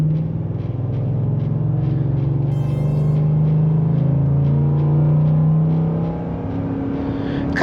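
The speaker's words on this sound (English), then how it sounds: "Give a little bit of gas." A 2024 Ford F-150 Lariat pickup with the 5.0L V8 pulls away under light throttle, a steady close engine drone and rumble that builds gently and holds with no talk over it.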